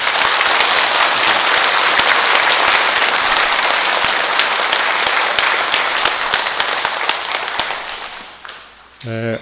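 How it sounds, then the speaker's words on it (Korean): Sustained applause from a church congregation welcoming a visiting bishop before a Gregorian Mass, dense and steady clapping that fills the space, then tapers off near the end. "우리 교구장님이신 우리 문창우 비호 주교님과 우리 교구청 신부님들께 우리 감사와 환영의 박수를 보내도록 합시다."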